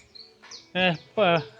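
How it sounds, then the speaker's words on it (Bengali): High bird chirps and two short, loud harmonic clucks from chickens in a Malaysian village, the clucks about half a second apart and close by. "পাখির কিচিরমিচির আওয়াজ এবং মুরগির আওয়াজ"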